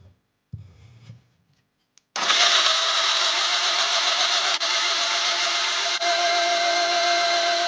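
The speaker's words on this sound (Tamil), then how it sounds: "இதை வந்து ஒரு மிக்சி ஜாரில் போட்டு நல்ல பட்டை எடுப்போம்" A mixer grinder jar of boiled tomatoes for homemade ketchup starts with a few brief bumps, then the motor kicks in with a loud, steady whine that runs continuously for over five seconds.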